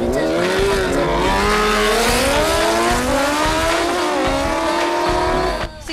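A 250cc Honda Tornado motorcycle engine revs hard and loud up close, its pitch climbing and dropping through gear changes, continuous for several seconds before easing off at the end.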